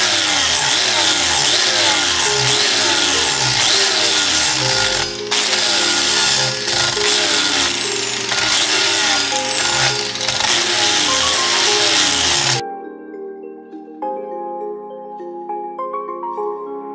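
A power tool wheel whines loudly and steadily while stripping powder coating from Toyota Tacoma front-end spindles, its pitch wavering under load, then it cuts off and a quieter tonal hum and clatter follow.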